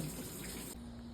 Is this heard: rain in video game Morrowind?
no